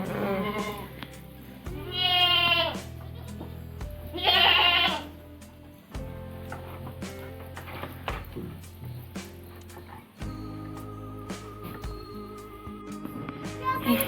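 Sheep bleat loudly nearby in a couple of drawn-out, wavering calls over a steady background of farmyard noise and clatter.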